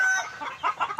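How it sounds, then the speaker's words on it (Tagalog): Chickens cluck in short, quick bursts, fairly close and moderately loud, with no other sounds around them. "Maingay yung aking mga manok."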